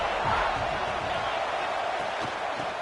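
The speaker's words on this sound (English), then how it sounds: "This crowd going to try to make life miserable for these guys." A college football stadium crowd roars as a continuous, dense wash of noise, loud and steady with occasional thumps and shouts rising from it.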